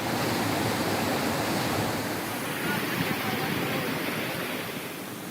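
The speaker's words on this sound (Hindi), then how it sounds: "नदी नालों में आया उफान" Monsoon floodwater surges through swollen rivers and drains, a dense, steady roar of rushing water that stays loud and continuous before easing slightly near the end.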